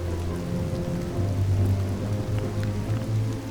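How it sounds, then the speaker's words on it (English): Cartoon rain effect: a steady, dense hiss of falling rain runs throughout with a low droning hum beneath, even and fairly loud with no voices. "not even a little rain can dampen this beautiful day"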